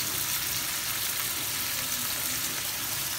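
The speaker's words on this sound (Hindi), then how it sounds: "अब इसको कम से कम 1 से 2 मिनट तक भून लिया।" Chicken with garlic ginger paste frying in a pot, a steady broadband sizzle that holds at an even level throughout, close and continuous with no talk.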